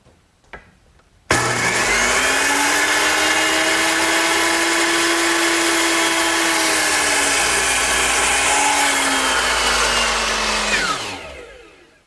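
A power saw cuts wood to length for a harvest table, a loud, steady whine that holds for about ten seconds after a sharp start and then winds down.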